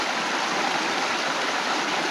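Shallow river or creek rushing steadily over rocks, a continuous close broadband wash with no voices.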